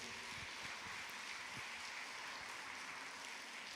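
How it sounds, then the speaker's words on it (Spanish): Steady applause fills a church service, a dense even wash of clapping hands that holds at the same level throughout with no pauses. "Denle una ofrenda de palmas al Señor Jesús"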